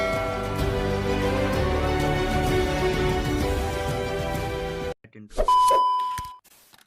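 Music plays, then cuts out; a short bright bell-like notification chime rings out clearly on its own near the end.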